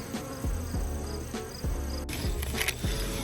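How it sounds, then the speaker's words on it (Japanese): Honeybees buzzing around a summer hive, several individuals zipping past close to the microphone in quick swells and fades over a soft background hum, with no voices. "今はもうすごく元気でミツバチたちめちゃくちゃ飛び回っています"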